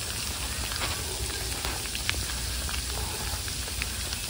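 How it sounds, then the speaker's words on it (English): Steady patter of rain falling on surfaces during a winter storm in Charlotte, North Carolina, with scattered louder drops ticking through a constant soft hiss. "And it's still raining."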